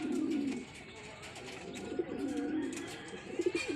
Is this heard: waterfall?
no